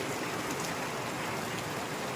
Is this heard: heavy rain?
yes